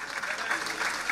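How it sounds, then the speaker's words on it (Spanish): Audience at a government signing event in Guairá, Paraguay, clapping steadily in a short, dense burst of applause. "Fuertes los aplausos, señoras y señores."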